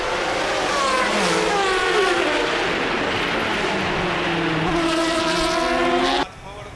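Historic Formula One cars from the 1970s to the 1990s and GP2 race cars scream past on a tight city circuit in Baku, loud high-revving engines rising and falling through gear changes before cutting away abruptly.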